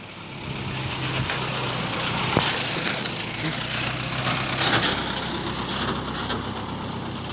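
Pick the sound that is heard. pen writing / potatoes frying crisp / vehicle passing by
vehicle passing by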